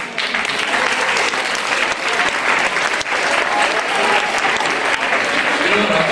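At a school Book Day celebration, an audience applauds in a loud, sustained wash of clapping that carries on unbroken for the full six seconds.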